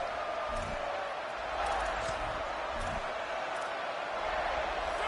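Stadium crowd roar in a college football video game featuring South Carolina: a steady, broad wash of distant crowd noise with a few faint thumps, while a commentator talks over it.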